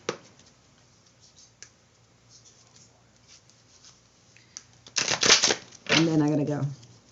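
A deck of romantic angel oracle cards is shuffled in a couple of quick, crisp riffling bursts near the end, after faint light handling noises, with a person talking close by.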